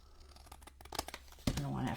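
A row being cut off a sheet of miniature brick material for a Halloween book nook, heard as short scraping and snipping sounds ending in a longer tearing rip, with a voice nearby.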